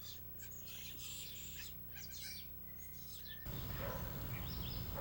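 Male birds give loud, repeated mating calls in short bursts, fairly close, with a soft outdoor background near a pond; later a faint trill continues over rising ambient noise.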